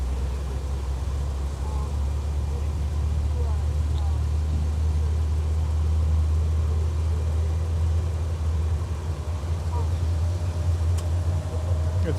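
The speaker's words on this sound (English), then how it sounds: "that A330neo starting both Trent 7000 engines. That deep harmonic rumble." An Airbus A330neo starting both Rolls-Royce Trent 7000 engines at Minneapolis–St. Paul Airport, a deep steady harmonic rumble heard from a distance, constant throughout.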